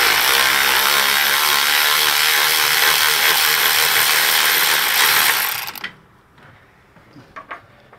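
A ratchet rapidly clicking as it turns an 18 mm swivel socket on rear hub bolts of a 2003 Ford Expedition, loud and continuous for several seconds, then stopping abruptly into a few faint metallic taps.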